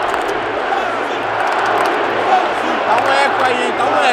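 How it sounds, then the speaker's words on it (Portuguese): A football stadium crowd keeps up a steady, loud roar of chanting and cheering throughout a match in Saint Petersburg, with a commentator's voice running over the noise. "Agora a torcida acordou"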